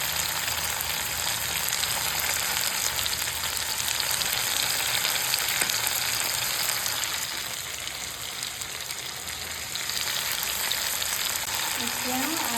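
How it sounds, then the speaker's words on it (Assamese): Mutton frying in a pan, a dense, steady crackling sizzle close by that dips slightly for a moment before picking back up, with a faint clink near the end. "এয়া মোৰ খাসী মাংস ফ্ৰাই কৰি আছো"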